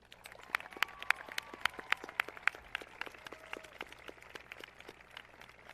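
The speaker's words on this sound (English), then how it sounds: "I invite everyone here to give a round of applause to our Shrewsbury faculty" Audience at a high school graduation ceremony clapping for the Shrewsbury faculty, a sparse, fairly quiet patter of individual hand claps from a scattered crowd, steady over several seconds.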